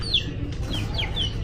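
A turkey outdoors giving a few quick, high, chirpy calls in a short series over a steady rumbling background.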